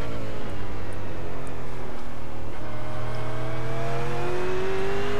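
Holden Commodore VF race car engine in the iRacing sim, a steady loud drone with rising and falling revs as it pulls through the gears, no talking over it.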